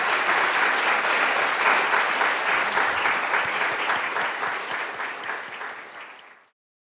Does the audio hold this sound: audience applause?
yes